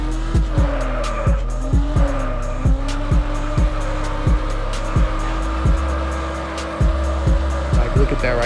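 Car tires squeal in a drift in the video game Madout2, the engine droning loudly with a repeated rhythmic ticking and pitch wobbles as the car slides, continuous and close.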